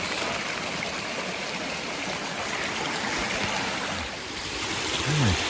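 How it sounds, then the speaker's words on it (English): A small waterfall on a mountain creek makes a steady, broadband rushing splash that holds constant throughout, with a brief low rumble near the end. "Came across a nice little waterfall."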